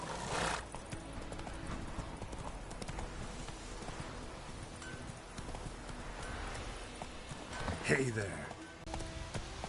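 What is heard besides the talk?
horse Roach galloping in video game Witcher 3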